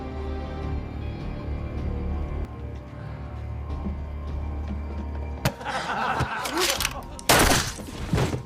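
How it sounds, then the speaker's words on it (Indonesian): A pistol hidden in a sleeve is fired in a film scene: a steady low rumble gives way to two sharp, loud broadband blasts about two seconds apart, with ringing noise after each. "Chow menembakkan pistol yang disembunyikan di balik lengan bajunya."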